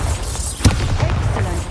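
In the video game Hogwarts Legacy, a Bombarda blasting spell goes off with a short, sharp boom and burst over a loud rumbling bed of game ambience, close and heavy.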